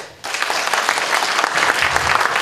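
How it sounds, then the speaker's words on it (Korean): Loud, dense applause from a party rally audience at a Daegu city chapter event, starting abruptly and continuing steadily as a thick wash of clapping. "다시 한번 큰 박수 부탁드리겠습니다"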